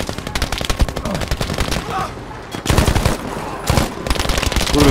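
Rapid automatic gunfire in the first-person shooter Battlefield 5, loud dense bursts of machine-gun fire with a short pause near the middle before the firing resumes.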